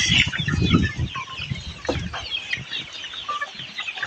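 Chickens on a farm being given water, clucking and calling in short irregular bursts close by, with several birds overlapping and no talk.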